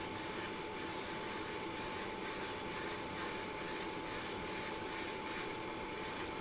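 Airbrush spraying a heavy wet coat of purple and electric blue paint, a steady close hiss of air and paint with a faint even pulsing, continuous and uninterrupted, no talk.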